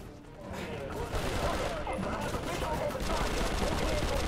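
Gunfire from a picked-up gun in the video game Prototype 2, a dense sustained burst of rapid automatic shots with chaotic crackle, fairly loud and continuous after a brief quieter start.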